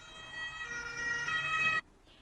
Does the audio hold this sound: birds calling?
no